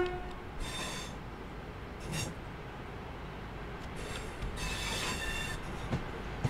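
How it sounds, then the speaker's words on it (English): Train flange squeal from a slow train rounding a curve at about 10 mph in Train Sim World 3, with repeated high screeching bursts rising over a steady low rumble of rolling wheels. "Nice flange squeal sound effects as we come round."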